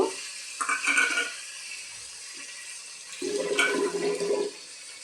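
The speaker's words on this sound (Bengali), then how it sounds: "আমি আদা বাটার মধ্যে বাটিটা ধুয়ে জল দিলাম।" Water from rinsing a ginger paste bowl is poured into a hot pan of frying spices for a potato curry, making two loud gushing, sizzling bursts separated by a short lull.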